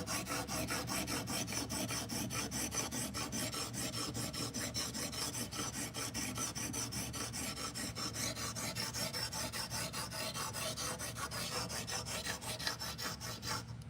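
A katana blade is rubbed with polishing powder and a little oil in a steady, continuous rasping wipe that lasts throughout, close and moderately quiet, with no talking.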